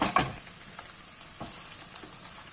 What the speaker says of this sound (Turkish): Şimdi havuçları da ilave ediyorum. 1-2 dakikada havuçları kavuruyorum.